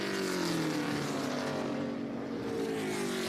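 Race cars and Chevy trucks at VIR SpeedTour thunder past in a steady, loud engine drone whose pitch slides gradually down as the pack moves away.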